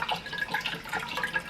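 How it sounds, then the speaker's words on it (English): Chicken broth pours into a cooking pot with a close, gurgling liquid splash that burbles unevenly throughout the brief moment. "And then I'll also put in the whole thing of chicken broth."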